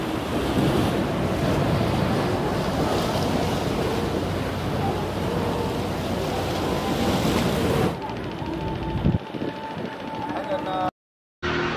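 Sea waves and gusting wind at a harbour beside Muttom lighthouse on the Kanyakumari route, a loud continuous surf wash with heavy wind buffeting that thins out late before a sudden cut to silence.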